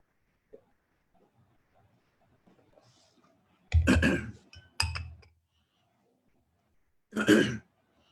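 A few throat-clearing coughs in a quiet room: two close together, then one more after a short pause, with faint clinks between them.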